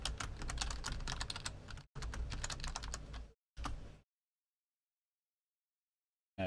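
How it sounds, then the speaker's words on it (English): Rapid typing on a computer keyboard during a Warhammer 40K: Conquest card game session on OCTGN, dense clattering bursts of keystrokes with short pauses, then stopping into silence. "You can type here."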